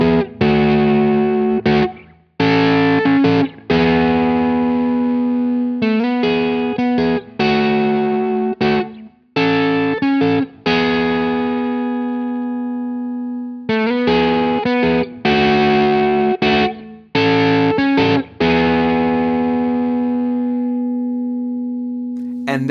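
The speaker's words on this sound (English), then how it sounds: "a little montage of the different sounds that I'm able to get out of this Reverend Jetstream just by flipping through the different pickup configurations" A Reverend Jetstream electric guitar runs through a KarenX fuzz pedal, with loud, saturated distorted chords and sustained notes ringing out in phrases separated by brief pauses as the pickup configurations change, without any talking.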